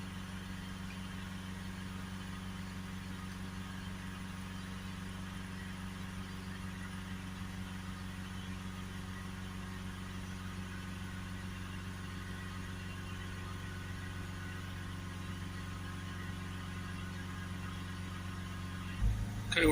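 Renault Espace 2.0 dCi diesel engine held steady at 3000 rpm, a constant loud hum with strong low tonal drone and even steady level throughout, with no voices, ending in a brief thump.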